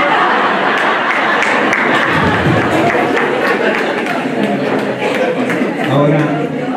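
An audience at a book presentation applauds, a loud sustained patter of many hands filling the room, with a few voices and light laughter mixed in as the clapping tapers near the end.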